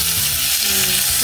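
Pork fries in cooking oil with a loud, steady hissing sizzle, close up and continuous for the whole moment, with a low bubbling underneath.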